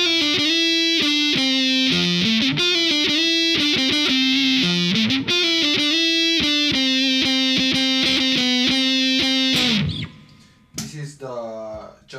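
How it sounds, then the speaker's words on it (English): A Crafted in Japan Fender Jaguar electric guitar on its lead circuit with the cut switch on plays a loud, distorted, sustained melodic riff, then breaks off into a brief messy string scrape and a bend. "This is the lead circuit with the cut on."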